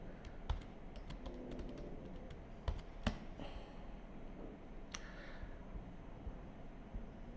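Computer keyboard keys typed while writing code, an irregular run of close, crisp taps and clicks with a few louder strikes, in a quiet room.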